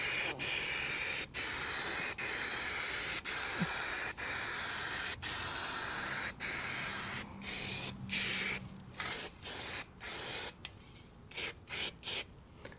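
Spray can applying a second coat of paint over filled rust-hole repairs on a DIY body patch, heard as a series of hissing bursts, long at first then shorter and choppier, close by with no talk.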